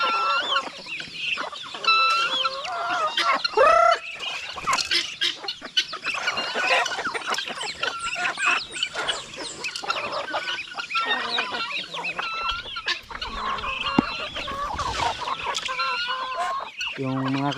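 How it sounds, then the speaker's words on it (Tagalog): Chickens and other farm fowl cluck and call near a pig pen on a Filipino backyard farm, a dense, busy chorus of overlapping clucks and squawks running steadily throughout. "Yung iba natin manok oh, doon sa kulungan ng ating baboy."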